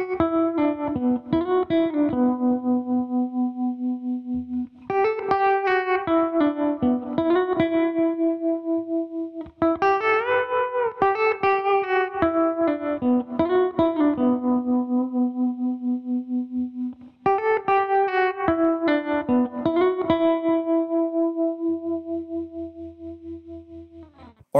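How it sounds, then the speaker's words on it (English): Electric guitar lead through a tube tremolo and an Ego compressor: clean pulsing phrases of picked notes and chords in repeated groups, upfront and alone. "So tremolo on that, and I'll be boosting with the ego compressor,"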